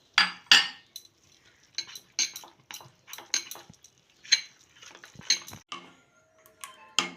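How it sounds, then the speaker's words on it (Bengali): A utensil briskly whisks flour and cornflour into a light spring roll batter, giving sharp, irregular clinks and taps against a bowl, close and fairly clear, with quiet gaps between the bursts. "নিয়ে ভালো করে ফাটিয়ে ব্যাটার করে নেব।"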